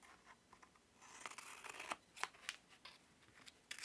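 Scissors snip through decorative washi tape on an index card in a few quick, quiet cuts, soft crisp clips with light paper rustling between them, close up and faint, with no talking.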